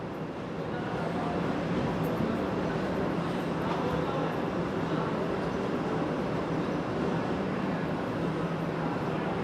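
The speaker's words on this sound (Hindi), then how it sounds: "AC डबल डेकर एक्सप्रेस छूट रही है।" An AC Double Decker Express train departs, heard as a steady, loud rumble of rolling wheels and running noise that stays even and continuous throughout.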